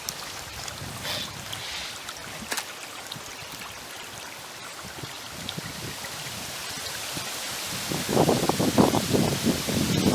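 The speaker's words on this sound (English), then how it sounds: "Beautiful little stream here." A small woodland stream flows steadily as a continuous broadband wash, with the water growing louder and splashier in the last couple of seconds; no voices.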